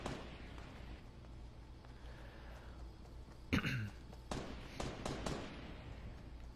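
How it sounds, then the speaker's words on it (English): Gunfire in Fortnite, faint shots crackling in a forest, one sharper report followed by a few quick bursts, distant and quiet. "There's shooting going on."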